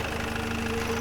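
Steady low throb of a jeep engine idling at night once the vehicle has stopped, a close, even rumble with a slight knocking texture and no talk.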